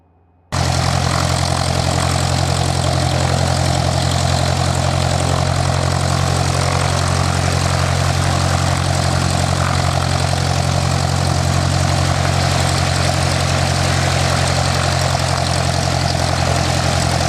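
A small propeller aircraft's engine runs at 1200 RPM on the ground before a first solo flight, kicking in abruptly and holding a loud, steady, droning roar with a low throbbing hum throughout.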